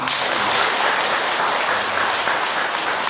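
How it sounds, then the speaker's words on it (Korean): An audience claps together during a Buddhist dharma talk, a loud, dense applause of many hands that fills the whole stretch evenly without pause or voices. "박수 한번 쳐야지."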